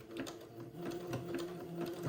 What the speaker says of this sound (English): I'm going to zigzag this gathered lace